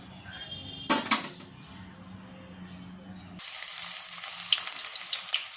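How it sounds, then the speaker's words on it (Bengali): Onion drops into hot oil and starts to fry, setting off a loud, close, steady hiss after a brief clatter. "এবার আমি তেলের মধ্যে পেঁয়াজটা দিয়ে দেব।"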